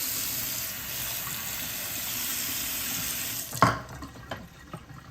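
Water from a kitchen tap runs in a steady close gush for several seconds, then cuts off abruptly, followed by a few light clinks and drips.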